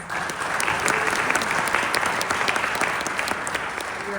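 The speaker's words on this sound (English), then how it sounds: "I think you deserve another applause" An audience at a nursing school pinning ceremony applauds the graduates, a dense, even wash of clapping that holds steady throughout with no voices over it.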